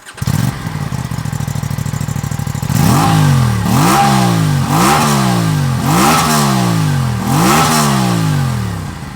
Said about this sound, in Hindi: आपको इसका एग्जॉस्ट नोट सुनाता हूँ